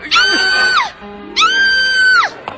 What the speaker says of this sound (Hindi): ये चीखना चिल्लाना क्यों मचा है?